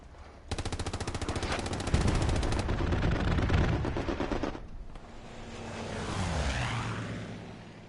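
Rapid strafing gunfire from a combat video game rattles in a long dense burst, then cuts off into a fading aircraft roar, heard at moderate level without talk.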